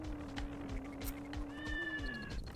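A cartoonish cat in the video game Club Drive gives a single drawn-out meow with a faint rising squeal partway through, heard over quiet background game noise.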